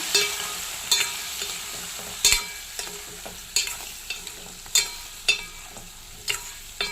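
Brinjal curry frying with turmeric and spices, a soft continuous sizzle broken by distinct scraping strokes of a spoon stirring the pan every second or so, near and clear with nobody speaking.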